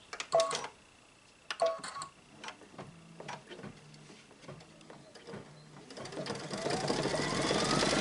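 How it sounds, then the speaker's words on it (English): A home embroidery machine stitches a Kimberbell mug rug in a steady mechanical chatter with rhythmic ticking pulses, close and moderately loud, before a louder, denser whirring burst near the end. "Then you just stitch it again."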